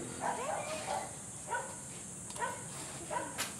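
A dog, brown in colour, barks in short repeated yips at moderate distance, about five bursts over a few seconds against steady background noise.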